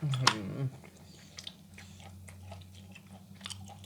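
Close-up crunchy chewing of fresh raw apple snails dipped in jaew sauce, with an initial bite followed by a run of small crisp crunches and wet mouth sounds, quiet and intimate.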